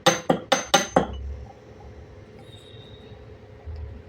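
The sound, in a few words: pounding ginger and cardamom in a mortar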